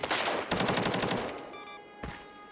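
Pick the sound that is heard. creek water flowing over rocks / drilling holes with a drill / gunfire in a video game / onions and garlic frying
gunfire in a video game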